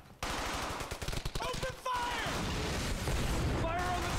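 Gunfire in the Brothers in Arms: Hell's Highway World War II game, with rapid machine-gun bursts and heavy blasts as a bazooka team fires, under shouted speech.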